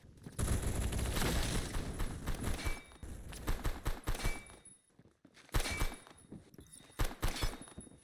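Rapid gunfire from a weapon in the Phantom Forces video game comes in dense bursts and volleys, moderately loud, with short pauses between strings of shots and no talking.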